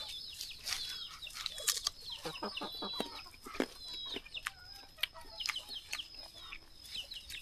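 Free-ranging farm chickens and ducks cluck and chirp in irregular bursts, some calls close and sharp, others softer in the background, over a steady hiss of outdoor ambience with no talking.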